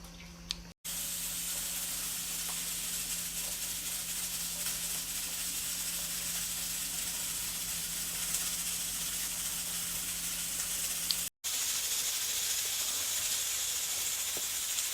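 A pressure cooker sits cooking on a stovetop, giving a steady, quiet hiss of steam that runs almost unbroken, cut off briefly twice, with a faint low hum underneath and no voices.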